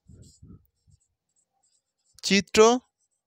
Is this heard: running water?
no